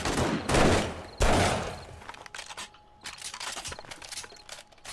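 Pistol shots in the zombie game 7 Days to Die, two loud close cracks followed by a scatter of quieter shots, clatter and background game noise.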